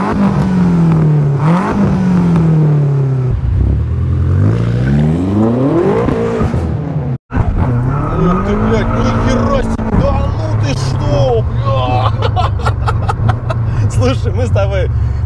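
BMW M5 engine accelerating, a strong rising then falling tone under continuous voices talking, briefly cutting out midway before revving again with sharp crackles near the end.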